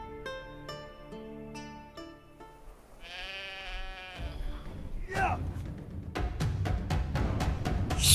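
Sheep and goats bleat in Witcher 3: several quavering, nasal bleats, some close and some further off, overlapping with game music and a voice speaking.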